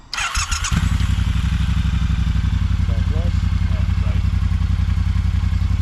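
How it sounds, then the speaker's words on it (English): A Triumph Bobber motorcycle cranks briefly and fires up, then settles into a loud, even, throbbing idle close by, with faint voices in the background. "Flick it on, get the fuel pump going. It's clutch in to start them, isn't it?"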